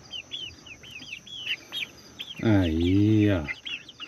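Laying hens let loose in a new henhouse give a string of short chirpy clucks, then one longer, louder drawn-out squawk near the end, with a few brief spoken words from a person nearby.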